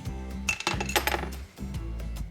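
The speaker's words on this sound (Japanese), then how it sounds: "ハサミで切り込みを入れます" Scissors snip notches into the curved seam allowance of a jumper dress during home sewing, giving a few sharp, close metallic clicks over a steady low background hum.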